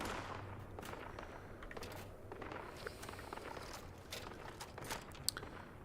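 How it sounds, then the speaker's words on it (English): Explosions from below in the Fallout video game, heard as a dense run of sharp booms and crackling blasts, some like gunfire, over a steady rumble, fairly distant and continuous, with no talk. "I'm kind of distracted by all the explosion noises going on down below"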